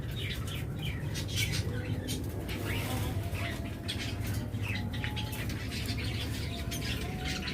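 Caged lovebirds at a bird sale chirp and tweet in a dense, continuous chatter close by, with busy rustling beneath the calls throughout.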